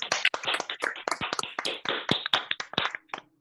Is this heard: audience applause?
yes